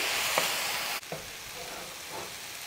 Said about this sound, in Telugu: సో ఇవన్నీ బాగా ఇప్పుడే స్పైసెస్ అని వేసాను కదా, బాగా కలుపుకుందాము.